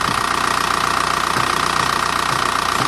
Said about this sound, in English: So you see a little tiny hammer, and he's knocking it away from the timing belt just a tiny bit